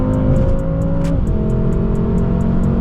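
A BMW M6 in traffic pulls hard at high revs, a loud, steady engine roar close up with a brief shift near the middle, then it keeps climbing. No one speaks.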